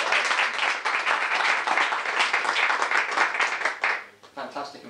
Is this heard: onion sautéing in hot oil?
no